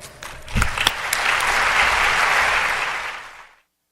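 An audience in a plenary lecture hall applauds to welcome a professor, the sustained clapping swelling after a few early claps, holding steady and fading out over several seconds.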